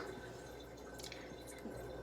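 Water poured out of a one-cup measuring cup into a container, a soft, close liquid splash and trickle lasting about two seconds over a quiet room background.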